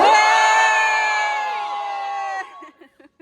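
An audience at a magic show shouting back in unison, a loud sustained drawn-out yell that fades over about two seconds, followed by scattered brief voices.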